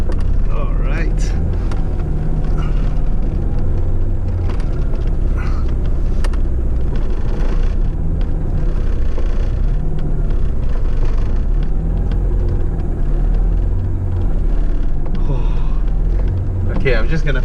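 A Lancia Delta Integrale on the road, heard from inside the cabin as a steady, loud low engine and road rumble that runs throughout, with faint speech now and then.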